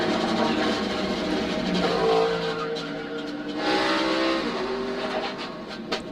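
NASCAR race cars at the 2012 Budweiser Shootout tangle in a multi-car crash in turn 2, dense engine roar swelling and fading with tire squeal and skidding throughout, loud and continuous.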